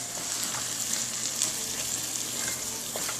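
Corn fries in a pan with a continuous bright sizzle and crackle while it is stirred and folded, with occasional soft scrapes and pops throughout.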